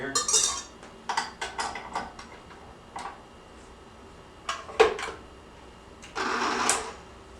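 A whisk clatters against a bowl in irregular bursts of quick metallic ticking and clinking, close by, separated by short quiet pauses.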